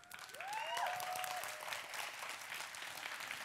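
An audience at a talk applauds as students stand up, a distant and fairly quiet spread of clapping that swells early and then holds steady, with a short whistle-like tone rising above it near the start.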